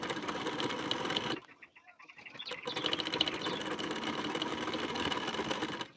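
A sewing machine stitches a collar onto a blouse with a fast, close, rattling whir. It pauses briefly near the middle and then restarts for a longer steady run.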